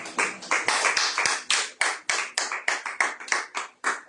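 A church congregation at a Sunday service claps in a steady, rhythmic beat, with loud, close hand claps repeating about four times a second.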